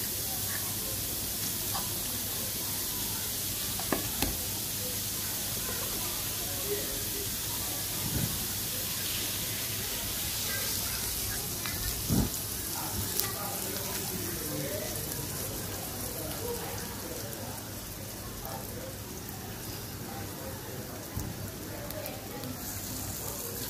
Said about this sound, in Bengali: তো পেঁয়াজটা ভেজে নিলাম।